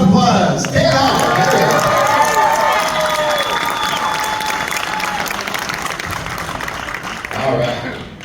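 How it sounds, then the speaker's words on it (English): Sustained applause with cheering from a convention audience at a horror film Q&A panel, loud and steady throughout, with shouts and voices mixed into the crowd noise before it tapers near the end. "one more round of applause"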